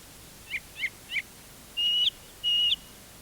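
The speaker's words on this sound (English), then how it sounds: "These are young thrushes." Young thrushes in a nest give three short rising chirps, then two longer thin whistled calls, clear and close against a quiet background.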